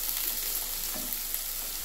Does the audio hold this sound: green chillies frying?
yes